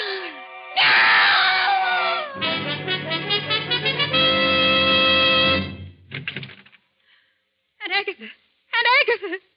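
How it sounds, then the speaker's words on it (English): A woman lets out a loud, drawn-out scream in an old-time radio mystery drama. Warbling, distorted tones follow, then short wavering vocal cries before the sound falls away. "I heard a scream."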